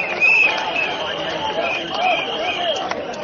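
A rally crowd chanting "Workers' Party" at a Hougang election gathering, heard as a distant, muffled swell of voices with a hard-to-make-out rhythm, under a nearer voice and some whistling.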